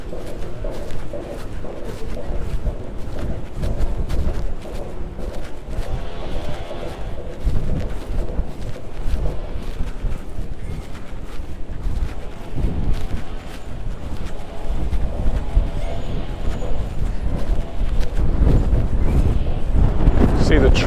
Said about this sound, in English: you can probably hear the wind blowing